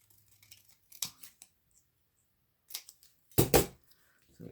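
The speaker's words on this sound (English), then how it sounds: "So we'll just cut this one out." Scissors cut out paper ephemera for a junk journal, giving a few crisp close snips, one longer louder cut near the end and quiet gaps between.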